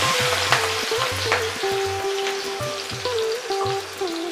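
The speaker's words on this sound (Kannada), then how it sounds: "ನೆನ್ಪಿಟ್ಕೊಳ್ಳಿ, ಇದು ಚೆನ್ನಾಗಿ ಫ್ರೈ ಆಗಬೇಕು." Finely chopped green chili frying in a small amount of oil in a pan, a steady close sizzle with soft stirring scrapes and no talk.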